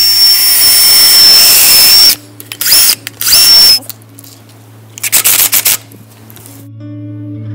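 A power drill with a small masonry bit whines loudly for two seconds, then runs in several shorter bursts with grinding, starting and stopping before falling quiet.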